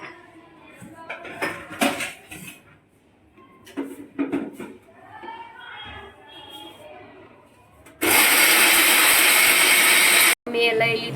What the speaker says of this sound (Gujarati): મમ્મી હવે પીછે પીસવા માંડ્યા છે હવે